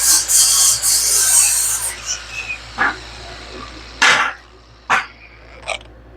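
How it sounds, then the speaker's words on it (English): Paint being scraped off a steering component with an abrasive during a steering change: a long raspy scraping burst at first, then several short separate rasping strokes. "Let's get some of this paint off of here."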